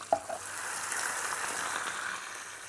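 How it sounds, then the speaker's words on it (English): Two cans of rich, thick diced tomatoes heat in a pan, giving a soft, steady sizzle and gentle bubbling with a brief clink near the start. There is no talk. "We just want to get a bit of heat through it and allow it to bubble away."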